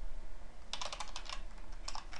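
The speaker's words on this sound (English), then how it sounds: "I bet some of you are probably giggling at my horrible typing." Quick bursts of typing on a computer keyboard while coding C++ in Qt, a close run of clattering keystrokes after a brief quiet start, then another short burst near the end.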